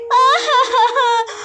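A cartoon snake character wails and cries for help in a high, tonal, moaning voice, close and loud, in several sobbing bursts.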